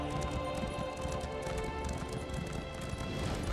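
Horse hooves in the Elder Scrolls Online video game, a fast continuous clip-clop of a galloping mount under game ambience and music, with no talk.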